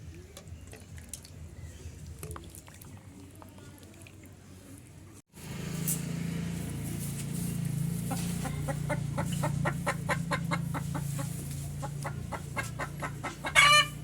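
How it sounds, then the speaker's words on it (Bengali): A hen clucks after laying an egg, sounding as a run of repeated sharp calls in a steady rhythm over a constant low background hum, loudest toward the end. "আমাদের মুরগিতে ডিম দিয়েছে ওই যে ডাকছে"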